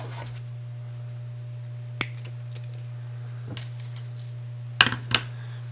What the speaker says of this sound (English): So I'm going to cut about a foot of wire,